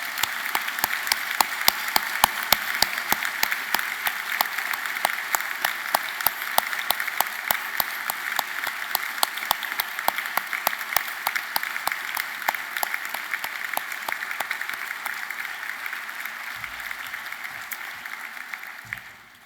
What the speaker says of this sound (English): let's all give a great round of applause for these wonderful people.